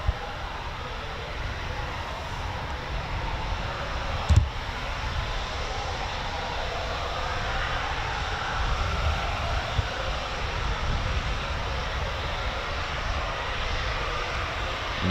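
RAF Eurofighter Typhoon FGR4 jet taking off at night at RAF Coningsby, a steady, broad distant roar of jet engine noise that holds throughout without fading.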